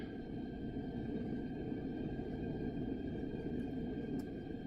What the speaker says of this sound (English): The low fire is running.